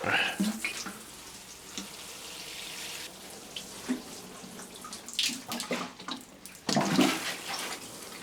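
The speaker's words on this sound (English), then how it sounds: "Give them a good water." Water splashes and trickles in uneven bursts nearby as tomato plants are watered, pouring and spattering with a few louder gushes toward the end.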